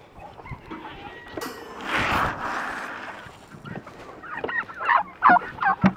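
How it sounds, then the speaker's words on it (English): Agitated chickens squawk and cluck in a busy flock at feeding time, with sharp bursts growing louder toward the end and a scuffling noise midway. "The chickens are going crazy because I fed the bigger animals first."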